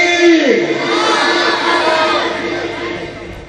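A large crowd at a religious gathering in Okara roars a loud, sustained collective takbir chant in answer to a leader's call, one dense wave of massed voices that holds steady for several seconds before thinning slightly.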